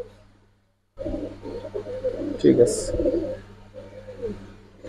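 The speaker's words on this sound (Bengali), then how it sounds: "এটা হইলো পাল্লার কবুতর" Giribaz pigeons coo softly and repeatedly at close range, with brief wingy rustles, while someone talks over them.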